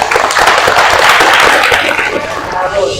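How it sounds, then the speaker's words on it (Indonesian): An audience in a classroom teaching session claps in a dense, loud burst of applause that lasts a few seconds and then tapers slightly, with talking mixed in. "Tepuk tangan untuk kita semua."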